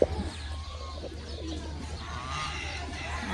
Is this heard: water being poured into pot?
no